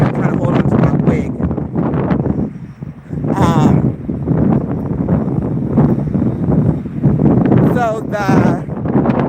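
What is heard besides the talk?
strong wind blowing into the microphone outdoors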